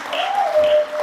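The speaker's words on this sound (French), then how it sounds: "Nous applaudissons le père commissaire pour sa disponibilité" Congregation applauding during a Catholic Mass marking the centenary of the canonisation of St Thérèse of Lisieux, a brief, steady burst of clapping from a church crowd with a faint tonal hum underneath.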